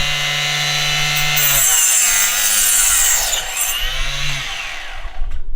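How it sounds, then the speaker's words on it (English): A small miter saw cuts through acrylic tube for a water loop, its motor whining loudly and steadily for several seconds, the blade's pitch sagging briefly mid-cut before it winds down near the end. "it's just a little miter saw, and this thing is awesome."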